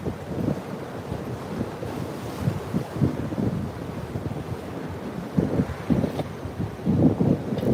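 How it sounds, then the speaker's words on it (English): Rough ocean surf rolls in at Jupiter Inlet beach in South Florida as the tide starts coming in, heard as a steady rushing wash with repeated surging wave swells and strong wind buffeting across the microphone. "that water's real rough. Tide just started coming in."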